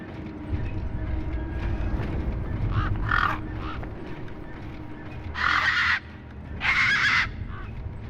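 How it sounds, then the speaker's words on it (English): Tough desert birds in the video game Beyond a Steel Sky let out harsh, loud caws in three separate bursts over a low ambient game background. "These were tough desert birds."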